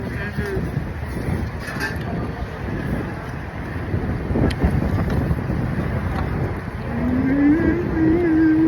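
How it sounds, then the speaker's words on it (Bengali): Strong wind buffets the microphone in a continuous roar on a freezing winter day in Jackson Heights, New York, with a low rumbling hum swelling near the end. "বাতাস কিন্তু প্রচণ্ড ওখানে"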